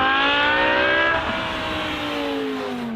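A high-performance BMW M5 sedan engine revs hard, its rising snarl swelling and then falling away smoothly as the pitch drops; loud, close and alone with no talk.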